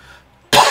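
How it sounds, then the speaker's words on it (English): A single sharp, close cough bursts out after a brief near-silence. "a bit of a weird cough still"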